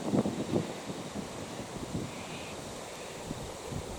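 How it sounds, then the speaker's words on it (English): Gusty wind blowing outdoors through bushland of prickly pear and apple cactus, a steady rushing roar with a few stronger buffets near the start, no talking. "Oh, shut up, wind. Listen to that wind."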